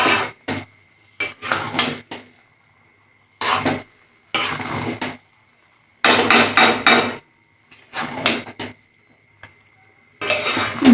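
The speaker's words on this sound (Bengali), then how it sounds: "ভালো করে নেড়ে চেড়ে দিলাম" Bhuna khichuri is stirred in a pot, with loud, close clanking and scraping strokes of a ladle against metal in irregular bursts separated by silent pauses.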